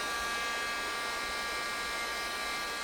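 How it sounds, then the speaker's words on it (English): A plastic welder's hot air blower warms a weld rod for sealing teak deck seams, giving a loud, steady, close hiss and whine that holds unchanged throughout without pause. "Just pass the weld rod through a couple of times to warm it up."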